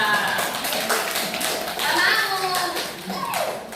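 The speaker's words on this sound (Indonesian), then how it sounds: "terima kasih tepuk tangan untuk Mbak Erika" Classroom of children clapping for a student, Mbak Erika, during an Islamic Qur'an and hadith lesson, a busy burst of claps lasting several seconds, with children's voices and chatter mixed in.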